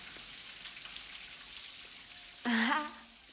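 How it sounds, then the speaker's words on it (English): Steady soft patter of rain, a continuous hiss of drops, with a brief louder vocal-like burst near the end. "I love the rain."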